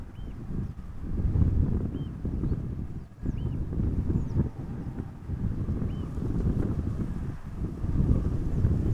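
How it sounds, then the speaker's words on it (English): Southwesterly crosswind buffets the microphone at Amsterdam Schiphol Airport, a continuous low rumbling roar with gusty swells and a few faint bird chirps above it, and no speech. "Now the wind is blowing from the southwest"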